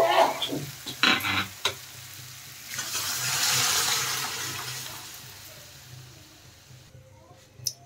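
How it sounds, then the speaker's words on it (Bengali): Boiled lentils go into sizzling fried spices for dal torka, with a few sharp clinks, then a watery hiss and bubbling that rises and fades into quiet. "এখন আমি সেদ্ধ করা ডাল দিয়ে দেব"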